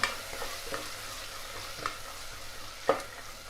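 Spoon stirring a ginger mixture frying in a pan for coconut milk biryani, with a low steady sizzle and a few soft scraping clinks, the clearest near the end.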